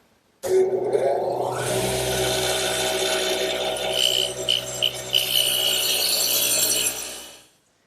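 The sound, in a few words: radial arm saw with dado head cutting wooden tenons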